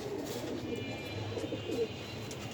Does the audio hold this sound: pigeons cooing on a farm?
yes